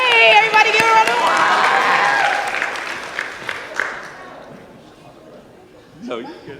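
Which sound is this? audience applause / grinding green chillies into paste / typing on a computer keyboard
audience applause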